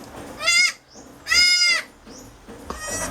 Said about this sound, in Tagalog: Yan yung mga bago kong kambing.